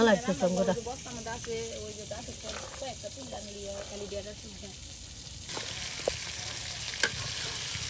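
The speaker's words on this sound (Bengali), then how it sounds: "এই যে মাছ কিন্তু তেলাপিয়া মাছ বেজে নেওয়া হলো" Tilapia fish frying in hot oil in a home kitchen, a steady crackling sizzle with stirring and scraping, under a voice speaking Bengali and growing louder and hissier toward the end.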